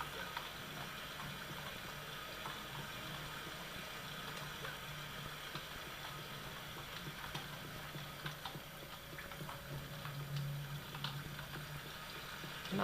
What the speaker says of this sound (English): Nice waterfall.